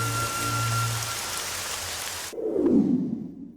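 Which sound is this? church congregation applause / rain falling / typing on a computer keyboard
rain falling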